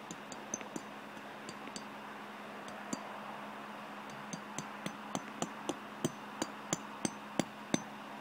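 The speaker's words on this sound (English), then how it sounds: "Now get the hammer." A hammer drives a stake into the ground outdoors to anchor a 7-foot inflatable Christmas reindeer; sharp, evenly spaced taps speed up and grow louder over several seconds.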